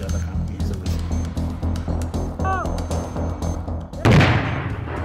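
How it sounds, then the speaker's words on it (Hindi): A seized bomb, one of three, detonated by the Jharkhand Jaguar force: voices and background noise run for about four seconds, then one loud, sharp blast erupts and rumbles away. "झारखंड जगुआर ने अपराधी के पास से मिले 3 बमों को ब्लास्ट कर नष्ट कर दिया।"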